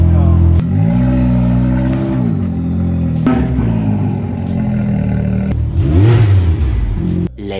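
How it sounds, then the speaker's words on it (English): A Can-Am side-by-side with aired-down paddle tires is driven straight off a trailer without ramps, its engine loud and close, revving up and down in several strong bursts. "How do you get this off the trailer? I drive it right off."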